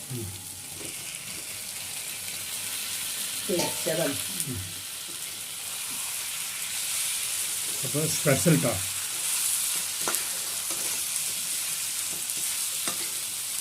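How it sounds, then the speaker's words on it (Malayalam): Chicken pieces fry in hot oil with a constant bright sizzle, broken by a few bursts of stirring and clatter, while a voice speaks briefly over the cooking. "അപ്പോൾ ആദ്യം പൊരിച്ചെടുക്കാം"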